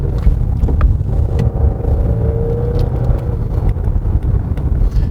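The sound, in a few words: Genesis G90 AWD car accelerating on road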